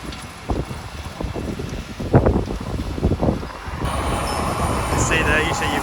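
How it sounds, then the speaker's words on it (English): Gusty wind buffets the microphone in an open field where a seed drill with discs, paddle boards and packers levels ground during spring sowing, a steady roar with bumpy low rumbles that swells louder toward the end. "Hopefully the wind's not too loud"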